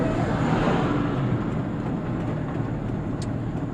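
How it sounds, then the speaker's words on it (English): A loud truck engine rumbles nearby in a steady, heavy drone that eases slightly toward the end, with no talking over it. "Your truck is so loud it just scared that dog"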